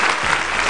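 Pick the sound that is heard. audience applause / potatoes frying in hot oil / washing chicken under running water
audience applause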